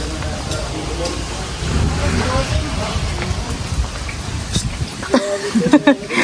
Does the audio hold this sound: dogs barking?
no